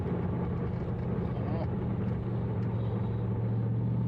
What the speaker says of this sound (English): I think that exhaust we got on there sounds pretty good.